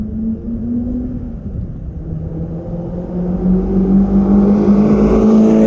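Ford GT40 Superformance replica V8 engine rumbling steadily, then building in pitch and loudness as the car accelerates, heard close with no talk.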